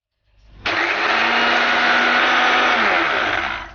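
An electric grinder whirs up to speed and runs loudly for a few seconds, pulverizing roasted spices for haleem in a steady, high motor whine before winding down.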